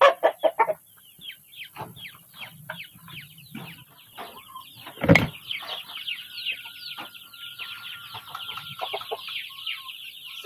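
Young chickens chirp and cluck in a dense, overlapping flurry of short calls, with one sharp loud knock midway, all close and busy throughout.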